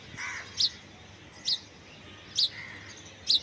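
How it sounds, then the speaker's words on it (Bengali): A house sparrow chirps on a rooftop on a fresh morning, four short bright chirps spaced evenly about a second apart over a quiet outdoor background. "এখানে একটা পাখি ডাকতেছে, চড়ুই পাখি"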